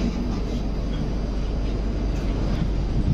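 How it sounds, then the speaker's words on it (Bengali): The Kanchenjunga Express runs toward New Farakka Junction with a steady, loud, dense rumble and roar. The wheels and carriage clatter continuously, heard from inside the moving train, with no talking. "আমাদের ট্রেন ছুটে চলেছে নিউ ফারাক্কা জংশনের দিকে।"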